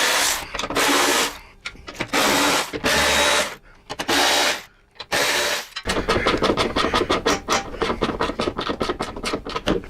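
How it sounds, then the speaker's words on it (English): A small hand ratchet works at a bolt on a motorcycle's stretched rear fender, giving bursts of rapid clicking broken by short pauses and then a long even run of clicks, close up with no talk. "You want to get up in there with a little ratchet and go ahead and loosen that"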